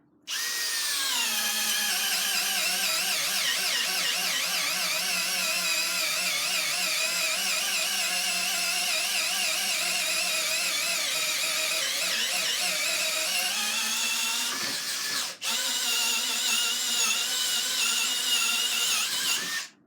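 Makita 12V CXT FD07 brushless drill in low gear boring into wood with a 1 1/4 inch spur auger, a steady, loud whining motor hum with a wavering pitch, briefly interrupted before resuming to the end.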